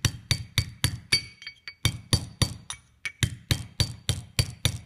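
A hammer taps a sealed bearing into a small engine starter generator, giving a quick regular series of sharp metallic clinks, close and loud, with a brief pause partway through before the even tapping resumes.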